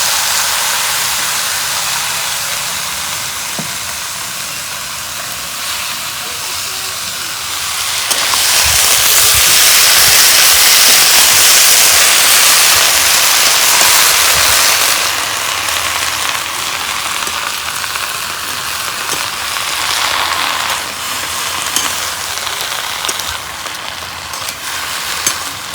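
Gourd greens tossed into hot oil with fried spices, setting off a loud, steady hiss of sizzling that swells sharply for several seconds, then settles into a continuous frying crackle.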